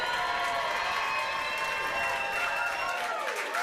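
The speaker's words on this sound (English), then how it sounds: "let me hear a cheer" A theatre audience cheering and applauding at a live political-themed stage show: a sustained, dense roar of voices and clapping at a steady loud level for the whole stretch.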